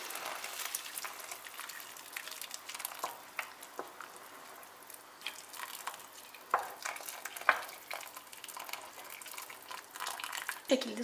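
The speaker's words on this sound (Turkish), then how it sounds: "Üzerini basacak kadar su ekliyorum." Water poured into a pot of vermicelli, a low trickling and splashing with scattered clinks and stirring taps, faint and close, with no talk.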